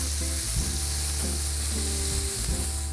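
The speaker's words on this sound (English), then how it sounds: "So now that our shrimp is getting a nice, beautiful seared color on that side" Shrimp sear in a hot pan with a steady, close sizzle and occasional stirring, continuous and fairly loud for the whole stretch with no voices.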